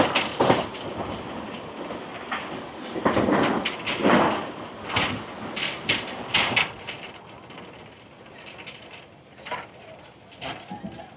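Tebhaga Express (13161 Kolkata–Balurghat) rolling along the Bardhaman four-line route at speed, with clattering, fluctuating rumble of wheels on rail joints and broadband bursts, louder early then easing slightly.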